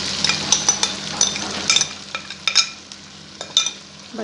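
Marinated beef liver and yogurt are stirred in a hot pan with onions and tomatoes, a utensil scraping and clinking against the pan in repeated close strokes over a steady soft sizzle, with no talking.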